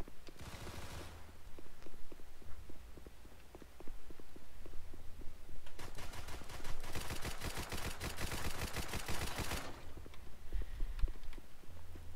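Gunfire in the video game SCP Site Apollo: repeated rapid bursts of automatic fire, a short burst near the start and a longer sustained volley in the middle, loud and close, with scattered shots and background noise between.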